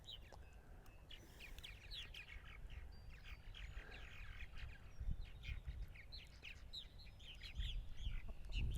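Purple martins call and chatter around martin housing on eastern Long Island in spring, a busy overlapping stream of chirps and gurgling notes from several birds, fairly close, over low outdoor rumble.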